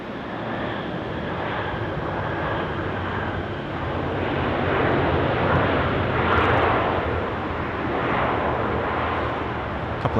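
Boeing 737-800 airliner landing on runway 16 right at Sydney Airport on a foggy night, a steady, broad jet engine roar that swells slightly midway, heard from a distance without talk.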